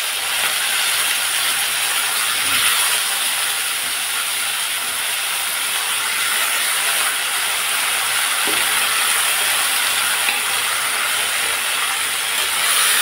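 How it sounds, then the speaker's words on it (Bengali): Vegetables fry in a hot pan with a loud, continuous, even sizzle that holds for the whole stretch, with no talking. "সবজিগুলোকে আমি প্রায় 3-4 মিনিটের মতো ভেজে নিব।"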